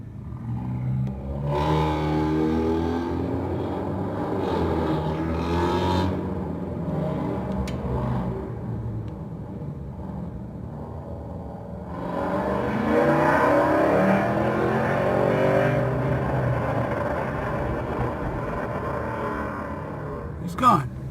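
A loud car accelerates away down a city street, its engine roaring and rising in pitch before fading into the distance, heard from nearby with some background street noise.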